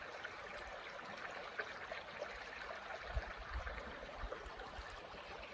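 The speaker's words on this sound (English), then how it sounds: "Here is the creek. I'll let you listen to it for just a second." Creek water flowing steadily beside a campsite, a soft continuous wash and trickle with low rumbling swells, fairly quiet and steady with no voices.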